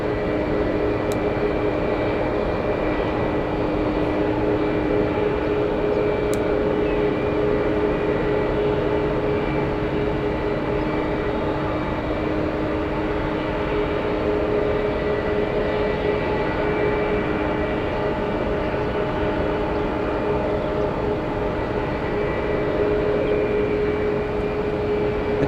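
A steady, loud airplane roar from an aircraft on an unstable approach and go-around at San Francisco Airport, droning on continuously without a break and with no voices.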